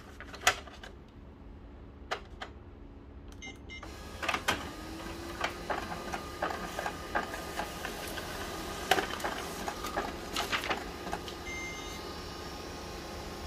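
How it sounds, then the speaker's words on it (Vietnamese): An HP LaserJet Pro M227fdn laser printer runs a reprint of a jammed sheet, giving mechanical clicks, knocks and a whirring feed over a steady motor hum, with irregular clacks throughout. "máy sẽ tự động in lại cái tờ kẹt lúc nãy nha các bạn"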